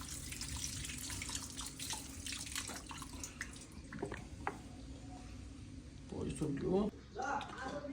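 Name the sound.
washing carrots in water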